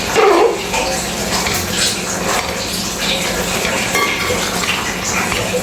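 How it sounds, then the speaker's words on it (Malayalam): Asafoetida is stirred into a soybean pickle mixture in a pan, with a spoon scraping and churning through the thick mix over a steady, close sizzle. "കായം ചേർത്തിരിക്കുകയാണ്. ഒന്ന് ഇളക്കി കൊടുക്കാം."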